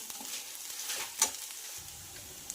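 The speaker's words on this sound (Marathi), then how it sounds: "आपल्याला फ्राय केलेली बुर्जी आणि छान असं मिक्स करून घ्यायचं आहे" Soft scraping and light sizzle as fried egg bhurji is stirred and mixed into rice in a pan, quiet and close, with a few faint clicks.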